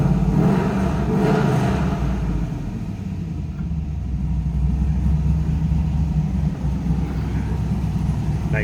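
A 2000 Chevrolet Camaro SS convertible with a 5.7 liter LS1 V8 idles with a deep, steady low rumble, heard close by and continuous with no speech.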